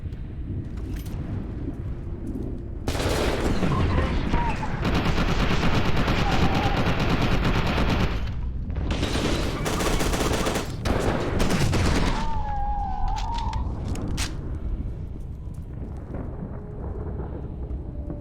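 Assault rifle fire in the shooter game F.E.A.R. 2 crackles in long, dense automatic bursts with brief gaps between them, loud and close, with a voice talking over parts of the shooting.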